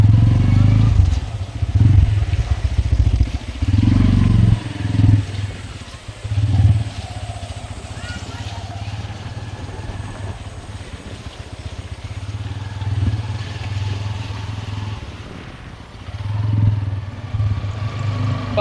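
A motorcycle ridden over a rough, bumpy road, its low engine rumble rising and falling with jolts and rattles, while riders talk over the wind and engine noise.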